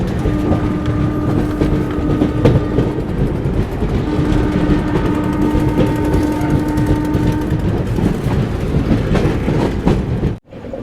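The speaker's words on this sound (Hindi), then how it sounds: "अब हम लोग की बिहार संपर्क क्रांति एक्सप्रेस ट्रेन पहुंच चुकी है उत्तर प्रदेश के उन्नाव जंक्शन पे" The Bihar Sampark Kranti Express rolls along the rails near Unnao Junction in Uttar Pradesh, a loud continuous rumble and clatter with a sustained tonal whine, heard from on board until it cuts off abruptly near the end.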